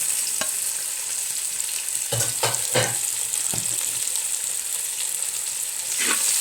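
Onions drop into very hot oil and fry with a continuous crackling sizzle, punctuated by several sharp stirring clinks and scrapes against the pan.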